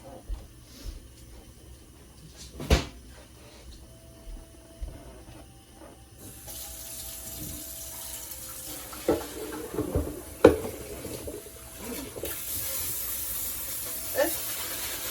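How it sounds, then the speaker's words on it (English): A kitchen sink sprayer hisses as it rinses dishes, coming in faint and then getting steadier, with clinks of dishware and occasional talk in the room. "Sprayer is the best thing ever. Just takes all this stuff right off."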